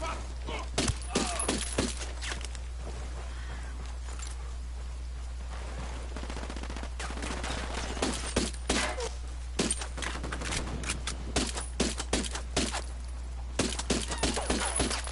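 Gunfire in the video game Destiny 2 on PS4 comes as rapid, sharp bursts of shots repeating across the clip over a steady low hum.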